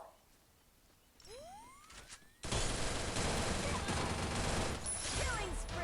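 Heavy automatic gunfire in a battle royale shooter, starting after a rising whoosh and then continuing as loud, dense, nonstop rattling for several seconds, with a voice talking over it.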